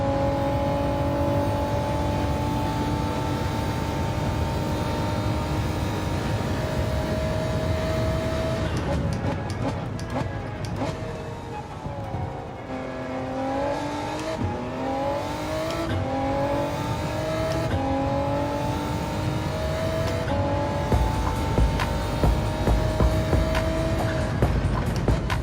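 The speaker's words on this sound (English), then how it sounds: "I like the sound the car makes when I shift gears too" A racing car in Gran Turismo 7 drones steadily at high revs, its engine pitch dropping and climbing through a run of quick gear shifts midway before it settles into a sustained whine, loud and continuous.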